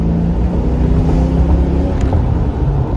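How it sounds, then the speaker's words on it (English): A Foxbody Mustang GT V8 accelerates, a steady loud low rumble heard from inside the car with wind and road noise over it. "little V8, let's see what you got,"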